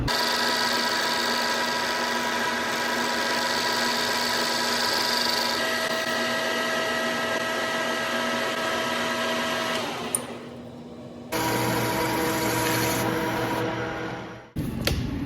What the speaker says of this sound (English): I'm gonna run it in lathe and just kind of true it up